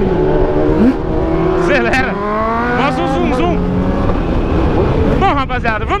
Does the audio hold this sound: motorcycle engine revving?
yes